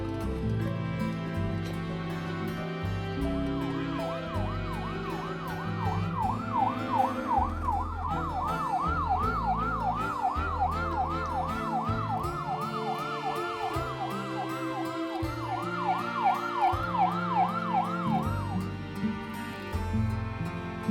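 A wailing ambulance siren waits on a rural road to carry an elderly mother to a clinic, its rising-and-falling tone cycling steadily for many seconds over background music and an idling vehicle.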